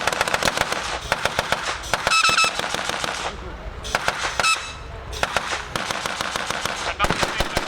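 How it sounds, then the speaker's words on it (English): A .50 caliber machine gun fires during a World War Two re-enactment battle at a steam rally, loud rapid bursts of sharp cracks with short gaps, a whistle-like tone briefly audible and a voice speaking in the background. "Great use of the 50 caliber for giving them supporting fire."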